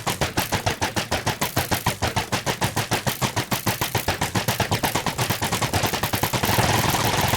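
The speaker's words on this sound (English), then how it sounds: "wait for him to keep shooting, eventually his crossbow will break" In Minecraft, a skeleton fires a crossbow over and over: a steady, fast train of sharp repeated snaps, each evenly spaced, continuing loud and unbroken for several seconds.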